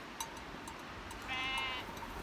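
A sheep bleats faintly outdoors near a wild strawberry patch, one drawn-out wavering call rising above steady background noise, with a few faint chirps around it.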